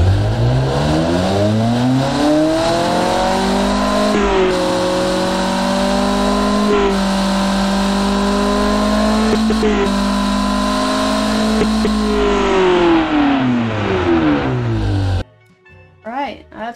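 A simulated car engine in the game Automation revs loudly and close, climbing and falling through several long throttle sweeps with a smooth, buzzing tone, then cuts off abruptly, followed by a brief moment of talk.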